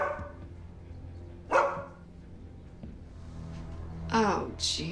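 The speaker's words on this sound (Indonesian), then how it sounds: "tiba-tiba anjingnya Odi menggonggong tepat di depan sebuah pintu" A dog barks in front of a door in a horror film, two sharp barks spaced a few seconds apart over low background sound, with a further yip near the end.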